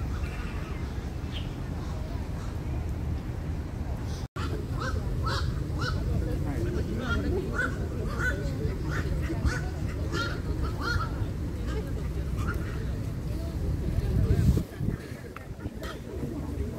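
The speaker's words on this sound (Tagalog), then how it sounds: "Ang daming ibon." A park in Taipei full of birds, with a dense chorus of honking and cawing calls overlapping continuously at mid distance, mixed with crowd murmur and occasional voices.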